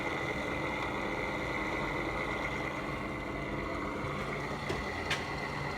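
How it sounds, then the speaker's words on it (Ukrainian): Small electric motor on a homemade tool sharpening machine with a cutter, running steadily with a constant low hum and faint whine, quiet and unchanging, with a couple of small metallic ticks near the end. "Маленький моторчик."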